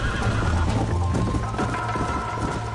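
A horse in the Red Dead Redemption video game neighs loudly and up close, with clip-clopping hooves and a steady game soundscape underneath.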